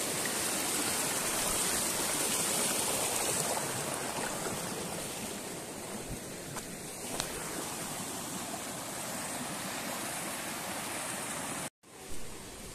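A mountain stream rushes steadily on a walking route between Lingia and Bijanbari, a continuous broadband wash that is louder for the first few seconds and then settles slightly lower before cutting off abruptly near the end, with no voices.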